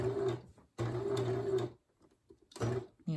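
Sewing machine stitching forward and back on a fabric face mask, in three bursts of steady mechanical whirring with short pauses between them, close and fairly loud, no voices.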